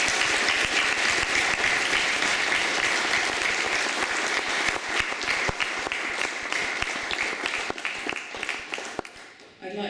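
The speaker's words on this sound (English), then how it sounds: "We'll give them a round of applause again" Steady round of audience applause for award winners at a school sports colours ceremony, many hands with distinct individual claps standing out, gradually thinning near the end.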